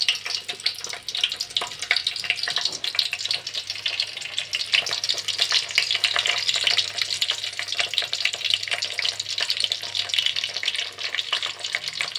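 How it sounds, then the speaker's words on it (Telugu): Chopped green chillies fry in hot oil for a drumstick tomato curry, giving a steady, dense crackling hiss that holds evenly throughout with no voices. "మనం కట్ చేసుకున్న కూరగాయల్లో ఫస్ట్ పచ్చిమిర్చి ముక్కలు ఆయిల్లో ఫ్రై చేసుకోండి"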